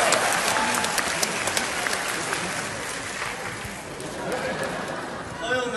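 An audience at a live crosstalk comedy show in Yichun applauds continuously, a bright clatter of many hands with voices mixed in.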